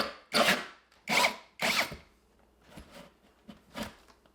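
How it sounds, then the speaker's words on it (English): A hole saw bores through sheetrock for a mini split line set during an EG4 12000 BTU hybrid install: three loud, rasping bursts in quick succession, then several softer, shorter grinding spurts, close by. "it's time to drill the hole for the line set"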